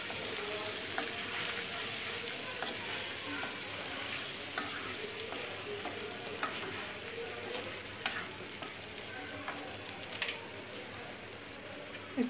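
Raw mango pieces fry over medium heat for a sweet and sour pickle, a soft, even sizzle with faint stirring taps and a couple of louder scrapes near the end, no speech.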